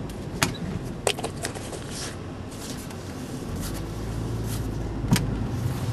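Interior cabin of a 2001 Saab 9-3 Viggen convertible on the move, a steady low road and engine rumble swelling slightly toward the end, with a few sharp clicks and knocks from inside the car and no talking.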